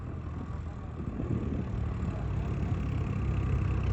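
A New Holland 3630 tractor labours up a steep sand dune in Rajasthan, its engine a heavy, continuous low drone that swells gradually louder as it strains under load.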